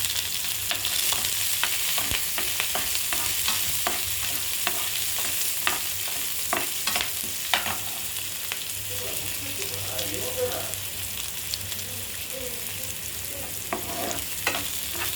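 Onion and green chilies frying in a pan with a steady, close sizzle, broken by occasional stirring clicks and scrapes throughout.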